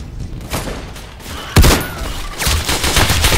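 Bursts of gunfire crackle through a war video game, scattered shots and short volleys at moderate distance, with a sharper thud at mid-clip and denser firing toward the end.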